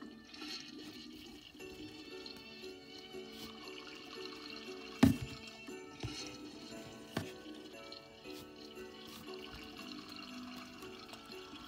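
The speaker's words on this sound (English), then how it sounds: "I'm going to flush it right here on camera for you guys." A household toilet flushes in a small bathroom, a steady rush of draining and refilling water with a few knocks and clunks, heard alone at a moderate distance.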